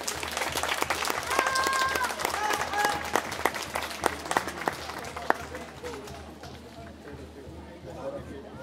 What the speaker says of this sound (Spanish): Vamos a brindarle un fuerte aplauso especialmente para nuestra Madre Virgen de los Dolores